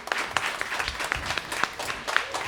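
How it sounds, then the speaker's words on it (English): Audience at a school music concert clapping, dense and lively with sharp individual claps and cheers standing out, fluctuating but sustained across the whole stretch. "So give them a really big round of applause."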